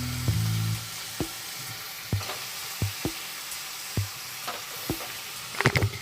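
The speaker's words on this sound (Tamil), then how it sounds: "இதில் இப்போ நான் இந்த மட்டன் பீசஸை ஆட் பண்ணிக்கிறோம்." Mutton pieces for a dry chukka fry sizzle steadily in a hot pan while a spatula scrapes and knocks against the metal at regular intervals, ending in a quick flurry of stirring taps.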